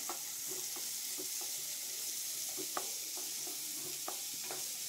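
Finely chopped onions sautéing in hot oil, a soft continuous sizzle with intermittent scraping stirs of a spoon in the pan, close and moderately quiet.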